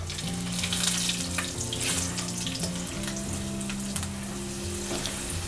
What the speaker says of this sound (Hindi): लहसुन को हम ब्राउन होने तक पकाएंगे